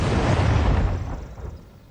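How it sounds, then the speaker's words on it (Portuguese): Artillery cannon fire during a Napoleonic-era French assault on a Portuguese city: one loud, close boom that rolls and fades over about two seconds, with no voices. "Os canhões de um e outro lado descarregam toda a sua fúria, arrasando as defesas inimigas."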